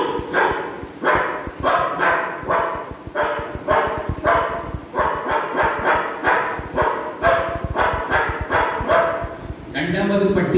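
A man at a Thiruvananthapuram charity arts event with a wheelchair distribution vocally imitates a dog barking, a long run of loud rhythmic barks close to the mic, with speech at the end.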